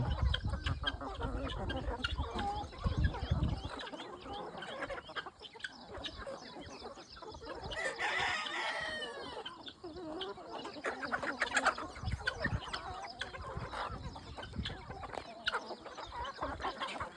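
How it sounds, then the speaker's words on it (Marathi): Free-range desi country chickens cluck steadily on a half-acre farm, a mix of near and farther hen calls with scattered louder squawks over an open outdoor background, no talking. "हे आपलं मुक्त संचार गावरान कुक्कुटपालन पूर्ण फ्री रेंज पूर्ण नॅचरल पद्धतीने"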